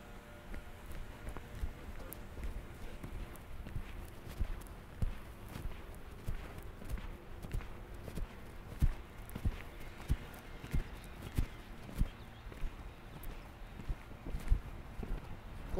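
A horse ridden in a hackamore walks with soft, regular hoofbeats on the ground, moderately close and fairly quiet, with light wind noise in the background.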